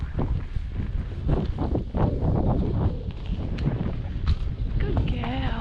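Gusty wind buffets the microphone on a blustery day during a horse hack, a steady rough rumble with brief gusts, a voice speaking over it at times.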